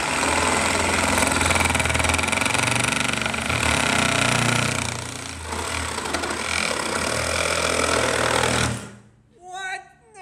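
A reciprocating saw plunge-cutting into wood, a loud, harsh, rapid buzzing chatter that runs steadily for several seconds and then cuts off, followed by a brief spoken exclamation.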